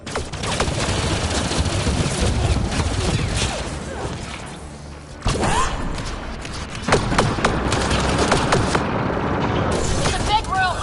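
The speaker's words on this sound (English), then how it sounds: "It's a gunfight in the gun battery then." Sustained gunfight in a gun battery in Mass Effect Andromeda, with dense bursts of rapid weapon fire and thuds, loud and close, mixed with shouting voices and a brief lull midway.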